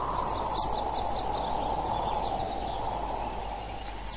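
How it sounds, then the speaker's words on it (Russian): Recorded birdsong layered over steady wind noise: chirps and short tweets flutter above a continuous broadband rush that stays level, fading only slightly at the end. "шум ветра появился"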